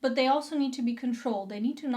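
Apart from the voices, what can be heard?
No everyday noise stands out behind the speech.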